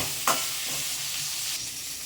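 Okra is sautéed in a pan until soft, a steady close sizzle with a sharp stirring scrape near the start and softer scrapes after, with no voice.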